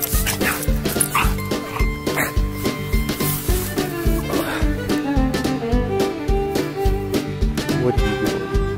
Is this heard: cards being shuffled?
no